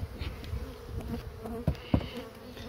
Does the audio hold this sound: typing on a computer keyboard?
no